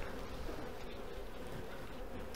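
Honeybees buzzing around an open hive during a nucleus and colony inspection after a brood-break treatment, a dense, steady hum close by with no talking.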